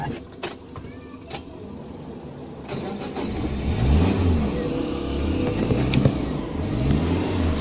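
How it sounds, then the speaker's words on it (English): A Lamborghini with a full titanium exhaust cold-starts with a loud crank and bark, then settles into a rough, throbbing idle punctuated by a few revs, heard up close after some brief background clatter. "Okay, ready for the cold start?"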